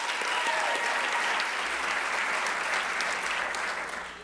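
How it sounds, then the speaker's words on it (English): A dense, even round of applause at a regional educators' awards and scholarship ceremony as a high school science teacher is honoured. Many hands clap close together, then the sound fades slightly at the end. "Let's give her a round of applause."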